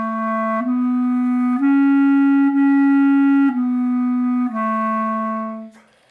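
A wind instrument plays a short phrase of four or five sustained tenuto notes, each begun with a firm, heavy onset and held full length with little gap, loud and close, the last note fading out.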